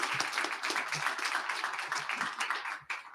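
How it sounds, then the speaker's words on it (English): An audience at a speaker-series talk gives a brief round of applause, a busy patter of many hands clapping that stays fairly even and then thins out near the end. "Give them a round of applause in absentia."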